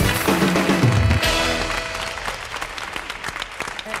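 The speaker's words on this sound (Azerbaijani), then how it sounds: "Alqışlayırıq, xahiş edirik, bravo deyirik" Applause from a studio audience on an evening game show after a contestant scores points, loud and dense at first with a low rumbling swell, then thinning to scattered claps by the end.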